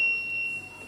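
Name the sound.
ground fault alarm sounding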